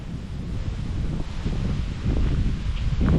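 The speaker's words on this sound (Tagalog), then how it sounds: "Sobrang lakas ng hangin." Strong wind buffets the microphone in a constant roaring rush, with rustling and gusts building louder toward the end.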